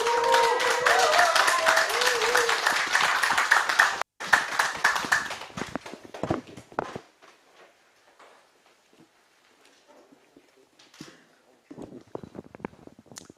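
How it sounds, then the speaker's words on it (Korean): Applause from a crowd welcomes speakers at a press conference, loud and dense for several seconds, then thins into scattered claps and near quiet, with a few claps returning at the end. "여러분 큰 박수로 환영해 주시기 바랍니다"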